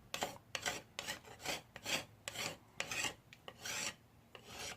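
A scraper drags across teak boat woodwork to strip old varnish, making a quick series of rough, rasping strokes about one every half second, close and fairly quiet with no talk.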